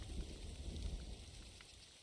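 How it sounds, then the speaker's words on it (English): Rain in the hunting game TheHunter: Call of the Wild, set on the Emerald Coast, a faint steady patter with a low rumbling undertone, quiet and continuous. "you guys can listen to the rain"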